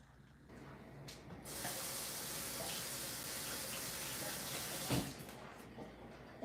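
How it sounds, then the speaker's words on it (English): Kitchen tap running while hands are washed under it, a steady close water hiss that starts after a second and a half and carries on with one sharp knock near the end. "Let me wash my hands."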